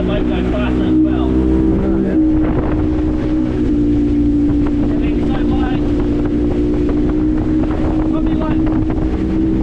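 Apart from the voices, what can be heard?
motorboat motor running fast, trimmed up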